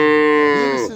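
A young calf at a livestock bazaar in Shahrisabz gives one loud, close moo that holds steady and then bends downward as it fades.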